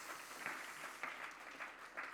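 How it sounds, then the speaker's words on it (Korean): Applause from a small church youth group congregation, steady clapping with a few louder bursts, brief and moderately distant. "우리 박수로 한번 격려할까요?"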